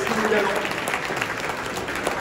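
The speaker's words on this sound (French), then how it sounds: "On peut les applaudir." A crowd at an agricultural trade show claps continuously after a project presentation, a dense, even burst of applause filling the short clip.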